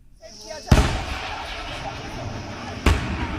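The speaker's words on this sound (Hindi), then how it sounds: "ये एक बार फिर से धमाके की आवाज" Two sharp booming blasts several seconds apart, each followed by a rumbling tail over a steady background noise.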